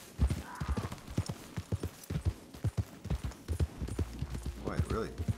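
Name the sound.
horse hooves in video game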